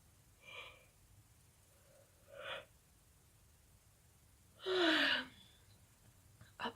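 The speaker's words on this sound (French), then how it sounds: "si je baille toutes les 30 secondes, ça va pas être possible du tout là" A person yawns: faint breathy sighs come first, then one longer, louder drawn-out yawn close to the microphone, followed by a short breath at the end.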